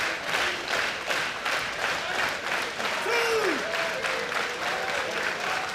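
A sold-out wrestling crowd inside the Rebel Entertainment Complex in Toronto applauds steadily, a dense wash of clapping filling the hall, with an announcer talking over it and a brief whistle midway.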